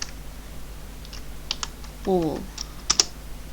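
A few sparse keystrokes clatter on a computer keyboard as the ipconfig /all command is entered, the clicks close and light, with a short spoken word in between.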